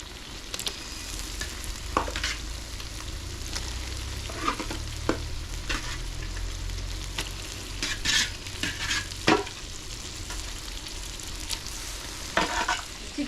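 Chicken pieces fry in oil for a chicken fry, a steady sizzle under repeated scraping and clanking stirs of a spatula against the pan, close and fairly quiet, no voices.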